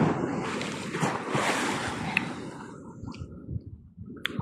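Sea waves washing against the shore, a continuous broad surf hiss mixed with wind, fairly close and steady, with no one speaking.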